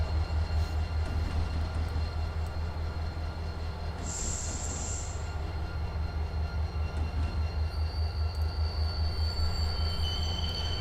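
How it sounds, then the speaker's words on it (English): Freight cars roll through the hump at Conway Yard, a continuous low rumble under high, thin wheel squeal that rises in the middle and comes back as faint screeches toward the end, with no one speaking. "so these are actual hump sounds from Conway Yard."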